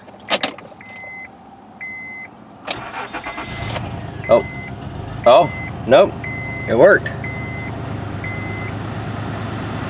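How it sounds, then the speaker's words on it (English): A 2003 Honda Accord engine cranks and catches, then idles roughly with uneven stumbling misfire pulses, while a person speaks briefly and electronic chimes beep in the background. "You can definitely hear that misfire though."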